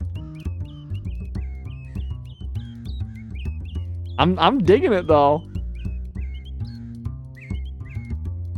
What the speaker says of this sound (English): Why are the birds chirping to the beat?